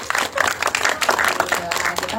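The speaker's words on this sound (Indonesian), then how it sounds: "boleh tepuk tangan dong" Audience clapping at a press conference for the Indonesian film The Verdict, a dense patter of many hands over a short stretch, mixed with voices talking over it.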